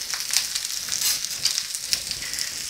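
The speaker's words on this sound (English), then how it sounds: "And adding my onions to the pan." Onions hitting hot canola and olive oil in a pan give a steady, bright sizzle with crackling pops throughout, close and loud with no talking.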